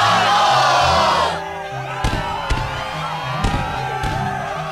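Crowd in the Kingdom Hearts 2 arena roaring and cheering loudly at first, then dropping away under game music with sharp hits.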